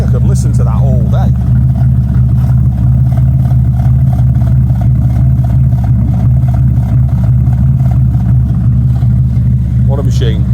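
A 350 bhp TVR Tamora sports car engine revs and burbles loudly nearby, holding a continuous deep rumble for the full stretch, with brief voices at the start and end.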